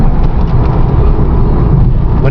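A 1990 Dodge Daytona Turbo with a 3-speed transmission runs steadily at a little over 2,000 RPM, giving a loud, continuous engine drone heard up close.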